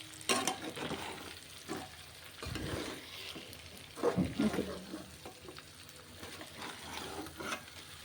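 Salt, chilli and masala powders fry briefly in a pan, a soft sizzle broken by repeated spatula scrapes and stirring knocks, fairly close but quiet.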